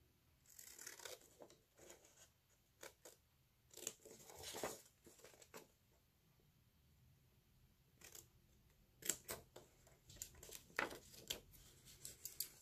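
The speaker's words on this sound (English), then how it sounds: "you're going to cut that part off." Scissors cut paper for a folio in close, crisp snips that come in scattered bursts with quiet pauses between them. No voices are heard.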